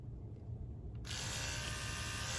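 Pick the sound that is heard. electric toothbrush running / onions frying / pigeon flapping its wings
electric toothbrush running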